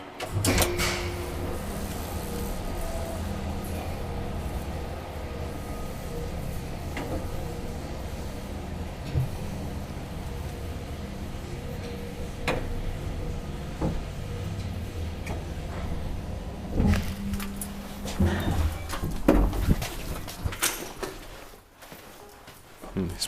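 Old Kone traction elevator machinery in a Turku apartment building runs with a steady low mechanical hum, punctuated by ticks, clicks and a few heavier clunks near the end, while people talk nearby.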